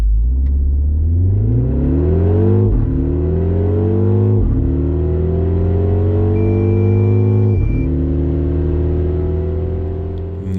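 A MINI Countryman JCW U25 (2024) accelerates hard from standstill toward 100 km/h, its engine note climbing loudly through three gears with short dips at each upshift, heard from inside and without talk.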